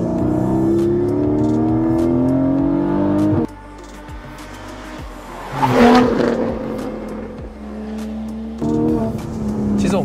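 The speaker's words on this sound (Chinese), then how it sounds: "那我就先开到手排模式，把排气管打开。" A Porsche 718 Boxster GTS 4.0 with a mid-mounted naturally aspirated engine and exhaust valves open revs hard in manual mode from close by, its rising, falling roar cut by gear changes and a sharp burst mid-way.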